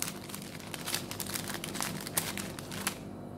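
Paper crinkling and rustling as mail is opened, a quiet continuous crackle of small irregular crinkles and soft tearing, close up with no talking.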